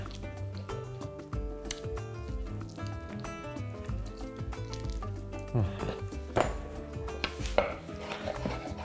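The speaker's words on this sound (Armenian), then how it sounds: "հետո ոսկրահան անելուց հետո մանր կտրատում ենք" Deboned chicken being finely chopped with a knife on a board, rapid repeated thuds and taps in an uneven rhythm, close and fairly quiet, over soft background music.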